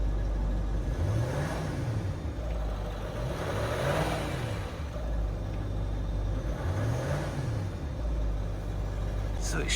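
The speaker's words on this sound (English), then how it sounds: "Let's give it a little revvy rev." A Range Rover L322 3.6 V8 diesel engine revs three times in an even rhythm, each short rise and fall in pitch standing over a steady loud idle.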